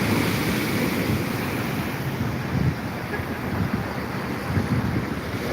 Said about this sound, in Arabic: النهارده خامس يوم في نوة الكرم